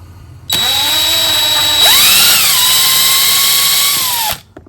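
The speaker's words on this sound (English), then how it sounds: "Again with the drill." A power drill boring a hole in a timber fishing lure whines loudly and steadily for several seconds, pitch dipping and recovering as the bit bites in, then stops abruptly, with no talk over it.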